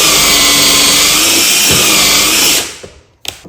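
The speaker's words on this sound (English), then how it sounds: "So just gonna drill the holes in the doors now." A loud power drill whirs steadily for a few seconds, drilling holes in wooden vanity cabinet doors, then winds down into quiet with a couple of light knocks.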